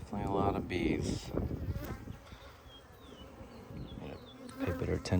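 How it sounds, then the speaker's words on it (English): Honeybees hum around an open hive during an inspection, a dense close buzzing swarm with individual bees whining past, while a person speaks briefly at the start and end. "definitely a lot of bees."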